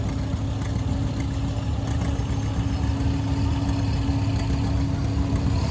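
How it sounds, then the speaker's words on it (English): A 1937 John Deere AOS orchard tractor runs at a classic tractor show, its engine holding a steady, continuous low rumble with a constant hum and no voices over it. "Raymond Richard from Hughesville on his 1937 John Deere AOS, orchard tractor, right?"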